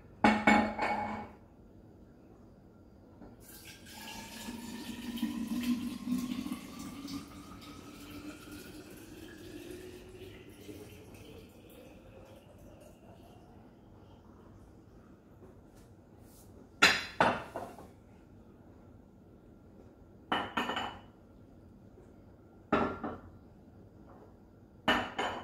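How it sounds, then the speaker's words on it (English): Pineapple ginger drink is poured into a bottle, with a gurgling fill whose pitch climbs steadily as the bottle fills, followed by a few sharp glassy clinks and knocks. "So I will start by filling the first bottle"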